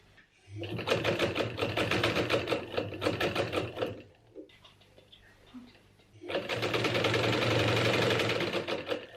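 A sewing machine runs in two long bursts of steady, fast stitching as it sews the side seams of a cotton fabric mask, with a short pause in between. The sound is close and loud, and some quiet handling noise fills the gap.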